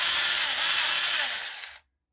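A small battery-powered mini chainsaw runs with a high, buzzing whine that holds steady and loud, then stops abruptly and leaves silence.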